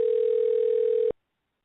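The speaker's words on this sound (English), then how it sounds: "get my dial pad pulled up, get the phone ringing" A steady telephone dial tone while a call is being placed, one continuous pure tone lasting about a second before cutting off cleanly, close and alone.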